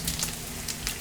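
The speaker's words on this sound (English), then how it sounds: "when I'm frying my pancakes" Pancake batter frying in a copper skillet, a soft crackling sizzle with faint spattering pops, steady and close.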